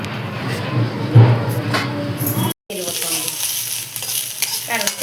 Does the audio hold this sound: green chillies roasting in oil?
yes